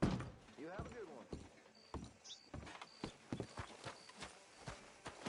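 Horse hooves clip-clop at a steady walking rhythm in Red Dead Redemption 2, fairly faint, with a snort near the start and game speech under the hoofbeats.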